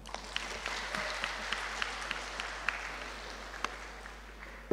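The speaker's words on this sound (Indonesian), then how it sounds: "Tepuk tangan." Steady audience applause fills a university senate ceremony hall, a dense wash of many hands with occasional louder individual claps standing out, continuous and mid-distance, with no talking over it.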